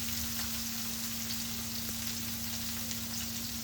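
Sliced bitter gourd (karela) fries in a pan for karela pickle, giving a steady, close, even sizzling hiss with a faint low hum beneath and no talking.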